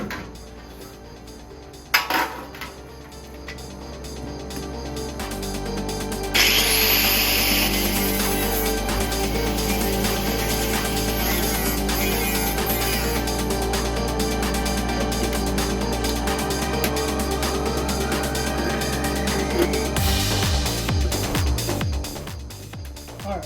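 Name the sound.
cutting wheel removing sill metal on Triumph Spitfire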